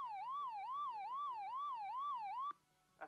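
A 1980s British Telecom Handel national attack warning siren sounds. It is a loud, clean wailing tone that rises and falls in a regular rhythm about five times, then cuts off abruptly into near silence.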